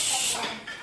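A pressure cooker whistle releasing steam in a home kitchen, a loud, sharp hiss that fades within a second.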